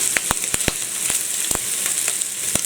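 Ham and sausages frying in a pan for an omelette, a steady close sizzle with a few sharp pops and crackles scattered throughout, no voices.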